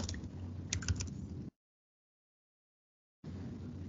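Quick bursts of clicking keys on a computer keyboard, faint and close, with a stretch of complete silence before the tapping resumes.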